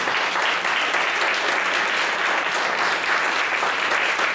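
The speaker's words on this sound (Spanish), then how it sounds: "a quien le pido un fuerte aplauso." Dense, sustained applause from an audience at a human rights and migration event, steady and loud throughout with no gaps.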